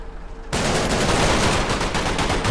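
Gunfire in the WWII tactical video game Combat Mission Market Garden, a sudden burst at the start that becomes sustained, dense rattling fire at steady loud volume with no pauses.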